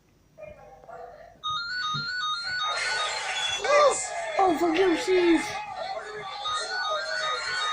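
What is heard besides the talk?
telephone ringing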